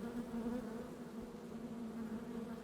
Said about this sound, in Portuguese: você vai escutando aquele barulhinho assim de abelha mesmo